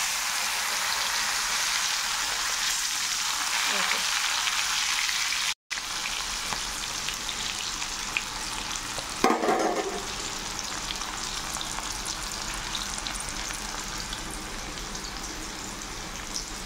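Food frying in a pan of hot oil, a steady close crackling sizzle that runs throughout with a brief dropout and a small clatter midway.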